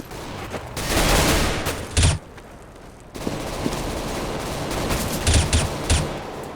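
Counter-Strike: Global Offensive gunfire: rapid bursts of automatic shots in two loud clusters, a sharp pause of near silence, then more scattered volleys and single cracks continuing over the remaining seconds.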